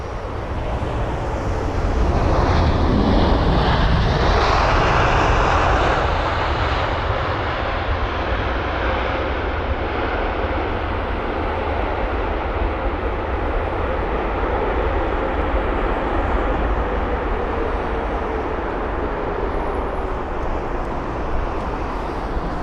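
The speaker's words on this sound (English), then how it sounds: "it is the 787-9 Dreamliner arriving from San Francisco" A United Boeing 787-9 Dreamliner lands at London Heathrow, its engine roar swelling and sweeping past in the first seconds, then fading into a long, steady rumble with some wind noise on the microphone.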